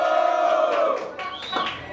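An audience at a rap battle event in Londrina roars with loud cheering and shouting, a dense burst of many voices that holds strong and then tapers off.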